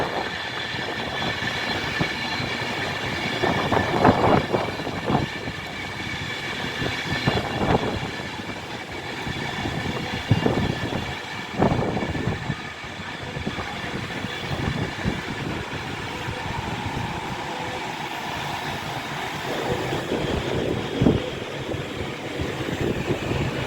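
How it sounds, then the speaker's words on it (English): An Avanti West Coast Pendolino class 390 train passes through Rugby station, a sustained rumble of wheels and motors with rhythmic clicks over rail joints and some squeal, fairly close and steady throughout, with no talk. "Here we go. Pendolino."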